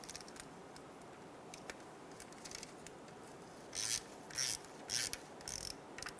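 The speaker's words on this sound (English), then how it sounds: "Using a 10mm socket, I'm going to go around and remove all the bolts for the oil pan." A 10mm socket ratchet loosens oil pan bolts on a 2007-2012 Nissan Altima, faint at first, then four short bursts of clicking, rasping ratchet strokes near the end.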